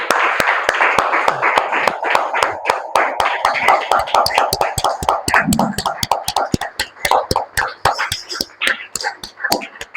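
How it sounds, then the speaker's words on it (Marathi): Congregation at a church service clapping loudly in sustained, rapid applause for about ten seconds, dense overlapping claps with a few scattered voices underneath. "आपण येशूसाठी एक बार जोरात टाळ्या वाजू."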